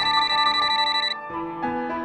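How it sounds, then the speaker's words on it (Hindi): An indoor telephone rings in the morning with a repeating electronic ringtone melody, clear and moderately loud, and no one speaks over it. "सुबह सुबह फोन किसका आ गया?"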